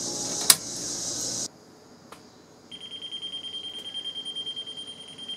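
A cheap handheld non-contact voltage tester near a live household wire at a light switch, giving a steady electronic tone after a brief loud hiss and click, then a rapid pulsing beep, close and fairly quiet.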